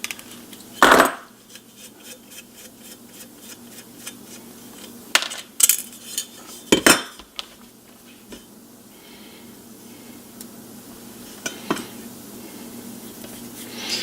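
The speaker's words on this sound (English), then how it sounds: "So we'll put that nut back on and this nut back on." Small metal nuts are handled and threaded back onto a 1939 NuTone Model B two-note door chime, sparse sharp metallic clinks and taps scattered over a quiet background.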